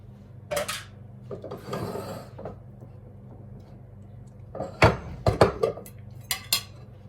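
Homemade yogurt spooned into a bowl: a few soft scrapes and dabs followed by a cluster of light clinks and taps of the spoon against the bowl, quiet and close.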